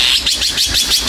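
A bird calls repeatedly while swooping to defend its nest near a pavilion, a rapid series of sharp, high chirps pulsing about five times a second, loud and close with no talking.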